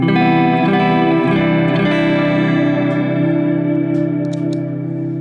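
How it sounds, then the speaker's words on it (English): A Strymon blueSky reverb pedal lets a sustained guitar chord ring out in lush, washy reverb trails that hold loud and even for several seconds, then slowly begin to fade. "And we get the trails of the reverb effect."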